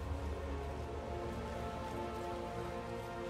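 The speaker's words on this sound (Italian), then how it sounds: "Questa pioggia di sangue è il segno che stavamo aspettando." Blood rain pours steadily in the Diablo 4 game, a dense, even hiss of falling drops with low rumbling undertones, continuous and moderately loud with no talking.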